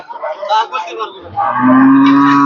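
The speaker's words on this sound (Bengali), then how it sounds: "আর একটি গরু আছে" A cow at a busy cattle market in Bangladesh gives a single loud, drawn-out moo that swells and holds near the microphone after some brief background chatter.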